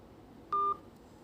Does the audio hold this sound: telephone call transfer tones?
yes